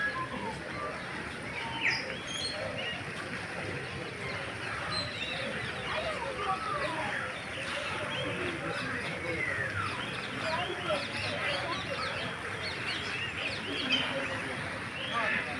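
Various birds chirp and call in a park bird house, faint scattered tweets over steady background murmur, with people talking throughout.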